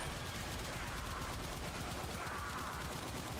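Rapid automatic gunfire rattles continuously in a Warframe battle, a dense, even burst of shots held at low volume without a break.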